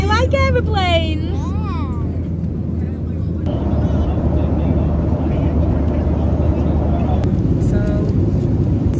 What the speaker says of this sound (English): It's an aeroplane.